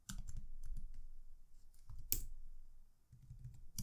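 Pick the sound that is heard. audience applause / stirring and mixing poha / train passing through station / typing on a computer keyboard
typing on a computer keyboard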